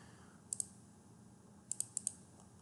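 A computer mouse clicks in trading software on a quiet desk: a quick double click, a pause, then two more quick pairs of sharp, light clicks, close by and alone.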